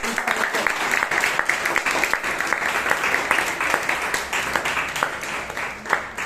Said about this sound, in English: Can we have a heavy round of applause?